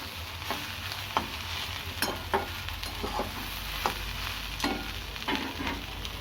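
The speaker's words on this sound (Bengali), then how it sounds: "ভাজা ভাজা মতো করে নেবো" Okra frying with onion, ginger and garlic in a pan over low gas, a soft continuous sizzle punctuated by several sharp scraping stirs of a spatula at uneven intervals.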